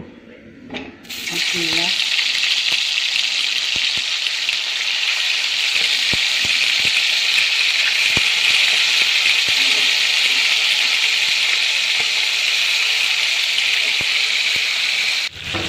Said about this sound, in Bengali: পেঁয়াজ আর কাজু বাদাম যেই তেলে ভেজেছিলাম ওর মধ্যেই চিকেনগুলো সব ভেজে নেব।